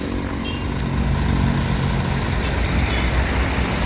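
A Sempati Star bus idles loudly with a broad hiss of released air and a low engine rumble at a depot, steady and close, no clear voices.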